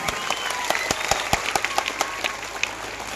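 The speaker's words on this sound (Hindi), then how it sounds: "एक बार जोरदार तालियों से इनका अभिवादन है" A crowd at a Bihar Congress political rally claps steadily, a dense layer of applause with some sharper individual claps standing out, moderately loud and continuous without speech over it.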